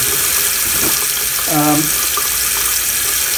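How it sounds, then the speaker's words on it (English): Steady rushing of hot tap water pouring into a clogged sink drain, continuous and close, with a brief voice sounding over it partway through. "I'm running hot water, by the way."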